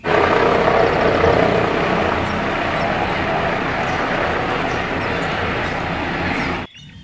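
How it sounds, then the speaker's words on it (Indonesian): A dense, buzzing whir like small rotor blades runs loud and continuous for several seconds, then stops abruptly. "Ada helikopter, teman-teman."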